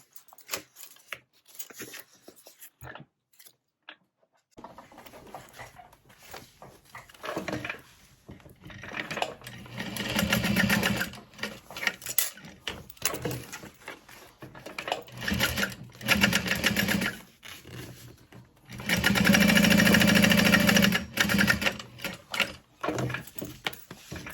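Home sewing machine running in long bursts while building a mini backpack, its steady motor whir rising and falling as stitching starts and stops, with soft fabric handling between runs and no talking.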